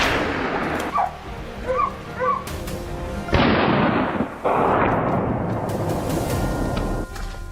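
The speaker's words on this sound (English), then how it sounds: "One more shot for a fleeing boar" Gunshots fired at a fleeing wild boar on a forested slope: several loud sharp reports cut through the scene, mixed with dog barks and whimpers close by and continuous rustling noise.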